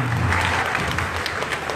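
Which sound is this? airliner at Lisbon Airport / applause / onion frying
applause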